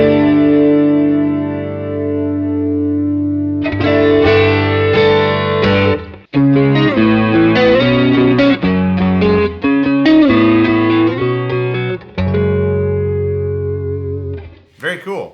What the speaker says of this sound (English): You're going to get like a chorus sound.